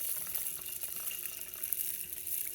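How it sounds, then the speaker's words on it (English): Tap water running into a pot of washed rice grains for cooking, a steady close trickle and splash that continues evenly without pause and with no talking. "I'm going to use a similar approach for adding the water."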